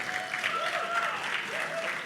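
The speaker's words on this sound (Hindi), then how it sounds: "एक बार जोरदार तालियां प्लीज।" Audience applause at a Bollywood song launch, a steady wash of clapping throughout, with faint tonal sounds and a voice briefly heard over it.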